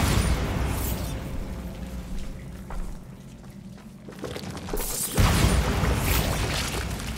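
A Bombarda spell blast in Hogwarts Legacy: a loud, dense burst of noise that swells, thins briefly, then surges again and holds, roaring close by with no talk over it.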